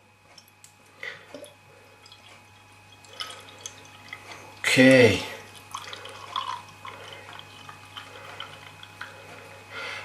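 Red Willow Headless Pale Ale, a bottle-conditioned beer from Red Willow Brewery, poured carefully from the bottle into a glass: one short splashing gush midway through a quiet stretch, with a brief spoken word nearby.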